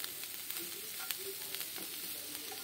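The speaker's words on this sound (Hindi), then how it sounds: "1 मिनट के लिए और इसे हम फ्राई करेंगे।" Cauliflower sizzling steadily in an oil-filled pan with coriander leaves, a soft continuous frying hiss with faint stirring clicks, close and quiet with no talking.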